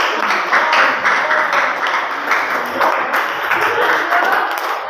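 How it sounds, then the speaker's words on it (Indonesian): Applause from a classroom group: a steady, moderately loud wash of many hands clapping that holds through the whole stretch. "Beri aplaus yang meriah"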